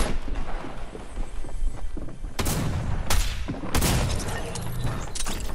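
Drum gun fire in Fortnite, with sustained rapid shooting and several loud blasts standing out in the middle and later on, close and heavy throughout.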